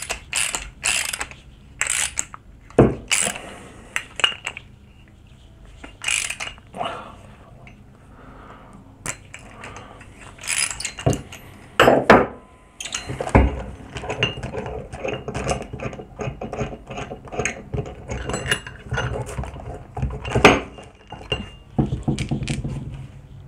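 A ratchet with a 19mm socket tightens an upright bolt on a Ford GT40 kit car's aluminium front upright, giving irregular clicking bursts and metallic knocks up close, with pauses between.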